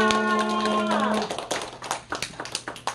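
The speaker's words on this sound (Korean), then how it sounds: "박수." A group at a church youth worship service bursts into scattered clapping after a held tone fades, the claps growing sparse and uneven toward the end.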